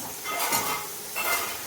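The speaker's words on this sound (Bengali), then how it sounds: "এইদিকে এই যে আলু ভাজা করছে অল্প করে" Potatoes frying in a pan in a home kitchen give a soft, close sizzle with two brief scraping, stirring swells.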